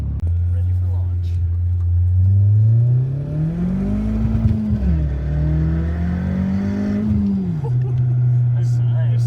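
A big-turbo Audi B5 A4 launches and revs hard, its loud engine note climbing, dipping through shifts and climbing again, close by and continuous, with faint voices underneath.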